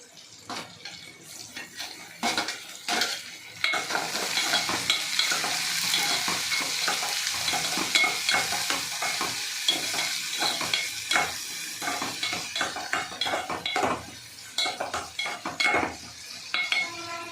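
Tomatoes frying in a pan and being stirred, a close, steady sizzle broken by repeated scrapes and knocks of the spoon against the pan, with no talking.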